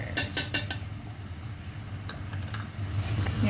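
A spoon stirs calderetang kambing with liver spread in a pot: a few quick metallic clinks at first, then softer scraping and bubbling, close and moderately loud with no talking.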